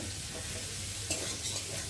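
Onion fries in a pan with a soft, continuous sizzle over a low background hum, marked by one or two faint stirring scrapes.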